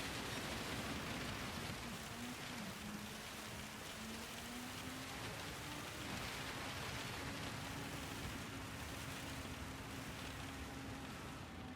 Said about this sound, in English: And I know what this kind of rain sounds like in real life.